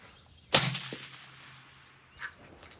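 A single sharp, loud shot from an Accuracy International rifle firing 153-grain Hornady A-Tip Match ammunition cracks outdoors, followed by a fading echo that rolls away across open ground.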